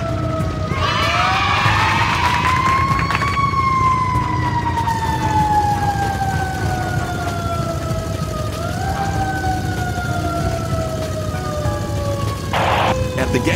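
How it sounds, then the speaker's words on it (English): Fire truck siren in the Tonka Trucks mobile game, a loud continuous wailing tone that rises and falls in long sweeps over a steady engine-like rumble, with a brief sharp burst of noise near the end. "Fast work, team fire truck."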